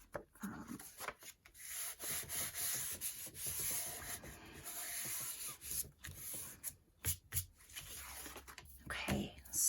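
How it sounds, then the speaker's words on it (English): Scissors or a blade cut around a glued-down craft tag made from scrap materials, giving close rasping, scraping strokes in uneven bursts with short pauses between them, while a voice speaks quietly over the work. "all we have to do is cut around it, and, you know, cut off the excess here"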